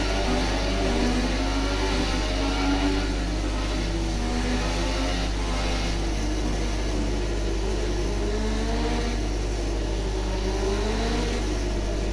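Formula 1 car engine in the F1 2017 racing video game, a loud continuous high-revving drone with shifting pitch as the car accelerates and changes gear, steady throughout with no voices.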